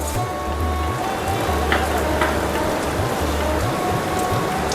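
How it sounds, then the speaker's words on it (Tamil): Dense, continuous sizzling crackle of flattened rice (aval) frying in hot oil for a South Indian mixture snack, close and steady, with a low hum underneath. "அவல் இப்போ நல்லா பொரிஞ்சிட்டே வருது"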